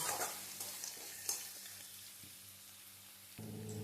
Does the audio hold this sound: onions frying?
yes